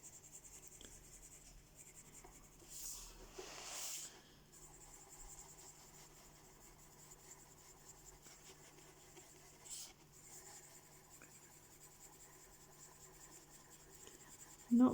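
Colored pencil laying down cream-colored shading on paper, a soft, faint scratchy rubbing in light intermittent strokes over quiet room hiss, with a few brief louder scrapes.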